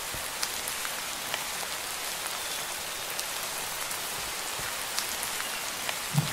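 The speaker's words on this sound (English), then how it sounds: "reworked rain sound" Steady rain falling on a surface, proposed as a reworked rain sound for Minecraft; a continuous, even hiss of drops with faint scattered patters, no voices.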